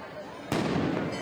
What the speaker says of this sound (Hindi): एक के बाद एक ये पटाखे और ये आतिशबाजी लोगों के लिए आकर्षण का केंद्र बनी हुई है।